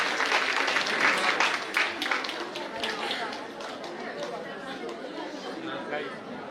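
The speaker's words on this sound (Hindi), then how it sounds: "तो जोरदार तालियों से मैं अवधेश भाई को मंच पे आमंत्रित करती हूँ।" An audience at a New Year celebration at a Brahma Kumaris retreat centre in Bihar claps steadily to welcome a singer to the stage, a dense sustained applause that slowly fades, with some chatter mixed in.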